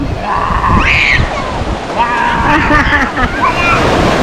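Strong ocean surf with wind buffeting the microphone, a constant rushing roar close by, while people talk over it.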